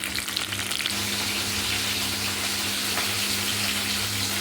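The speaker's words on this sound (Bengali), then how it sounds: "এই কড়াটায় ফুলকপি ভাজা বসিয়ে দিলাম" Cauliflower pieces fry in a wok, a loud and steady close-up sizzle of hot oil that carries on without a break, with a faint low hum beneath it.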